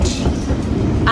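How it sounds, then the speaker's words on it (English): Steady rumble inside a moving train carriage in London, a loud continuous low roar of wheels and rails close around the listener, with no talk. "Yeah, I'm alone on the train."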